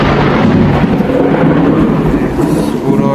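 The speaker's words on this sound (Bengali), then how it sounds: "যা বিদ্যুৎ চমকাচ্ছে" Thunder in a lightning storm, a loud continuous low rumble that holds steady without breaks, rain hiss faintly mixed in.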